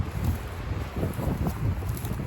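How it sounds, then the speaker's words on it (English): Wind gusts outdoors during a New Mexico shed antler hunt, a steady low rumble that swells and buffets the microphone throughout, with faint rustling over it. "Oh, there goes the wind."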